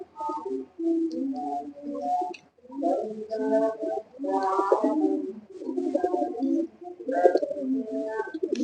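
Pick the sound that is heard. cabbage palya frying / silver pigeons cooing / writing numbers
silver pigeons cooing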